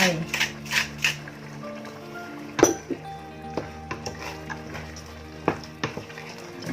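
A spoon knocks and scrapes against a pot of bean soup being stirred, with several sharp clinks at irregular intervals over a steady low hum, while a voice talks in the background.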